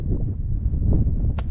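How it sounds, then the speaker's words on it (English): Steady wind buffeting the microphone on a hilltop near Wadi Shawka Dam, a continuous low rumble with gusty fluctuations and a brief rustle near the end. "It's super windy, so I'm not sure how the audio is going to sound"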